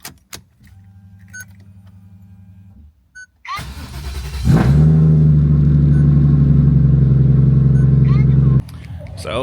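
A car heading out to a drift event at Mobara Twin Circuit in Japan: a low idle, a brief whir, then the engine starts and holds a loud, steady drone up close before it cuts off.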